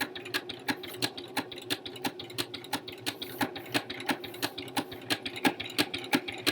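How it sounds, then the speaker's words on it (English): A sewing machine runs a zigzag stitch on fabric for a boxy tee, its needle pounding in a steady, fast rhythm of evenly spaced clacks over a constant motor hum, close and alone. "this is a zigzag stitch going one side to the other"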